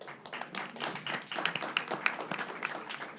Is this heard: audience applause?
yes